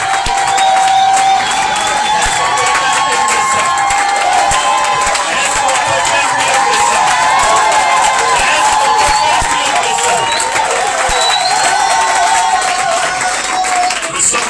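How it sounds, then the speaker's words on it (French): A crowd at a Pessah conference cheering and applauding loudly and steadily, with sustained tonal singing or music running through the roar. "Est-ce qu'on peut donner un tonnerre d'acclamation pour cette grâce?"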